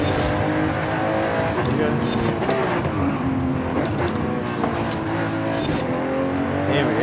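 Racing car engine in Forza Horizon 5, driving a lap: a steady, loud engine drone that shifts pitch as the car speeds up and eases off, with people talking over it.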